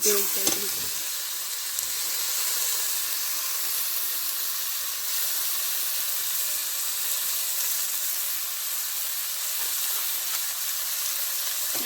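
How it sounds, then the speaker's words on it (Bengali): Chicken curry with turmeric and yogurt fries in oil, giving a continuous moderate sizzle and hiss over about twelve seconds, with faint stirring and no voices. "দইটা দিয়ে একটু ভালো করে নাড়তে হবে। ভালো করে নেড়ে নেড়ে তেলটা ছাড়লে"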